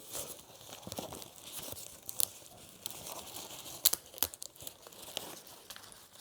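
Adhesive tape is pulled and torn off a mailed plant package, a quiet crinkly ripping with a few sharp crackling bursts, close up and with no talking.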